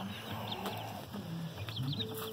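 Chickens cluck and murmur softly in a steady outdoor hum near a Great Pyrenees dog, with occasional higher bird calls scattered through.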